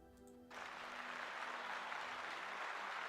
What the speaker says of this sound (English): let's give Elixir of Life a round of applause